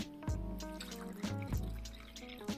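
Plain water being poured from a glass into a mixer-grinder jar holding malai, giving a close, steady splashing and gurgling pour with a few sharper drips over about three seconds, with no voices.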